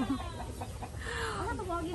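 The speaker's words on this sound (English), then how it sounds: "Oh, manok pang tari" A fighting rooster at a mountain farm gives short, faint clucks and a rising call, heard at a distance amid outdoor background noise, with a voice speaking quietly.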